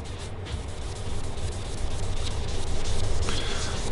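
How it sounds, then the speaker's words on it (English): A wild wood maple guitar top is sanded by hand with steady rubbing strokes, a close, continuous scratchy friction that grows slightly louder partway through, with no talking. "I can sand some of it out."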